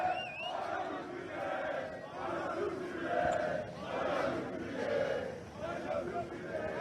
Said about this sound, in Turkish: I love you Fred tezahüratlarıyla birlikte